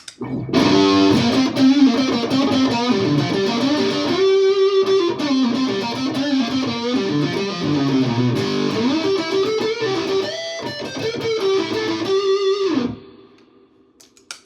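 A heavily distorted electric guitar, a Les Paul with out-of-phase humbuckers, both pickups at full volume and the Super Distortion tone rolled off, plays a gritty riff for several seconds, then stops abruptly and rings out into quiet.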